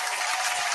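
Dense, steady applause from a studio audience on a podcast set, a continuous wash of many clapping hands at a fairly loud, even level with no talking over it.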